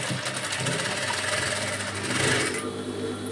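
Electric sewing machine stitching the pleats of a saree, pinned and folded in place, running steadily and close with a continuous whirring hum for the whole stretch, easing off near the end.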